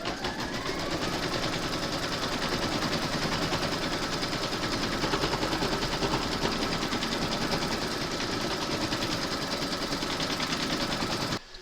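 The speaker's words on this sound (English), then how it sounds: "Pop your hoop into your machine and stitch round number 2 to secure it." An embroidery machine stitches a round to secure batting for a large appliqué gnome, with rapid, continuous close mechanical rattling and needle tapping held steady until it stops abruptly at the end.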